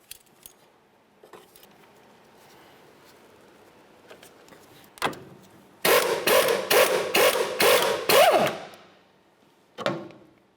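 Clicking and knocking from an 18mm socket wrench working a strut nut on a 2005-2010 Chevy Cobalt front strut, with scattered taps, then a close, loud burst of rapid ratcheting bursts, then one more clank.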